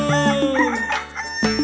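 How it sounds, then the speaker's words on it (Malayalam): A drawn-out rooster crow with rising and falling pitch, close and loud, set against the steady musical accompaniment of a Malayalam children's rhyme song. "പൂങ്കോഴികൾ കൂകുന്നു"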